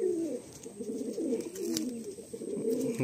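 Low, repeated cooing of a Madrasi or Andhra pigeon close by, a soft throaty rolling call that continues across the clip, with a faint click or two.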